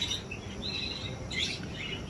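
Finches and lovebirds in a pet shop chirp in quick bright bursts over a dense room hum, a few close tweets standing out from the background.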